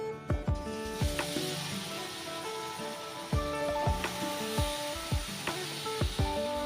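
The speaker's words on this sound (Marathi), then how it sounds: "गुळाचा पाक करण्यासाठी आपण आधी तूप घालूया थोडस तूप गरम झालं गुळ टाकूया" Jaggery sizzles in hot ghee in a new five-metal kadhai, a steady frying hiss broken by repeated sharp clinks and scrapes of a spoon against the pan.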